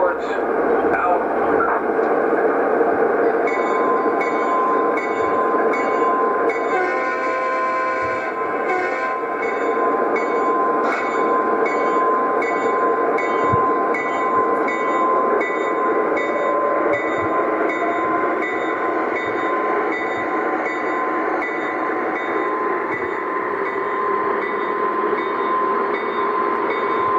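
An O gauge model CSX train pulls out onto the main line, a steady mechanical hum with tonal horn-like blasts, while voices talk over it.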